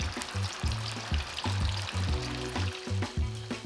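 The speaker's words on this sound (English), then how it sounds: "Heat up a pan with some oil over medium-high heat, and once it's hot, drop the tofu in" Tofu fries in hot oil in a pan over medium-high heat, a continuous crackling sizzle with repeated low clunks and bumps as pieces shift, close and moderately loud, no speech.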